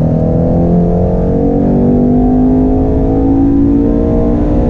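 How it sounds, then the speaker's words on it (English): A 2019 Ford Mustang GT PP2 pulls hard through a corner in third gear, its engine droning loud and steady with a rising tone, close and continuous, with no voices. "Third gear, on the brakes, roll on throttle."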